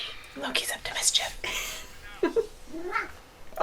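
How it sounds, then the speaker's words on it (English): A cat gives several soft, close meows amid light household noise, while a person whispers and talks quietly between them. "Oh, I love it. Happy meows."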